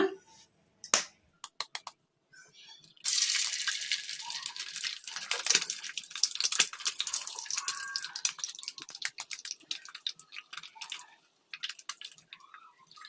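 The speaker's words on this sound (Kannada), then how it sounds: "ಎಣ್ಣೆ ಕೂಡ ಬಿಸಿಯಾಗಿದೆ ಈಗ ಇದಕ್ಕೆ ಎಗ್ ಹಾಕೋಣ" Eggs dropped into hot oil in a kadai on a stove begin to sizzle. A few sharp drips and crackles come first, then a loud, busy spattering hiss continues to the end.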